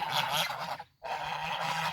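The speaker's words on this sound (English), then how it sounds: "The geese are getting big and stay loud." Geese honk loudly and continuously nearby, a dense overlapping chorus broken by one brief gap of silence.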